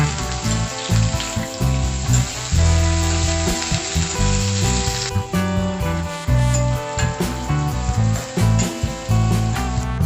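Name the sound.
onions, curry leaves and green chillies frying in a pan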